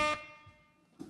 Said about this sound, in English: She's getting the air horn.